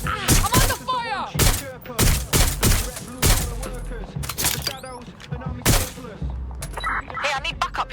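Gunfire in the video game Watch Dogs: Legion: rapid volleys of loud, close shots in quick, uneven bursts, some with ringing impacts, mixed with shouting character voices.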